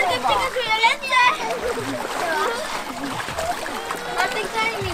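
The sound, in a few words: splashing in a swimming pool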